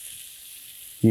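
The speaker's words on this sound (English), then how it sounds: "you hear that nice sizzle right at the beginning" Shrimp sizzle in hot oil in a pan, a bright continuous hiss that holds steady for about a second before a voice cuts in at the end.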